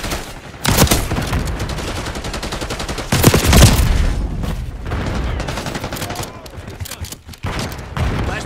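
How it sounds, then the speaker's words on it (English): Flashbang grenade and rapid gunfire in Call of Duty, loud dense bursts of shots and a heavy blast amid a chaotic firefight, with voices under the shooting. "Flashbang out."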